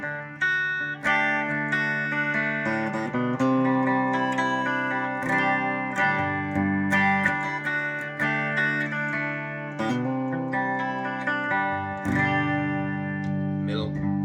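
An Epiphone Joe Bonamassa electric guitar plays through a Twin Reverb amp, sustained chords and picked notes ringing steadily and close with clear amp tone, continuous throughout with brief pauses between phrases.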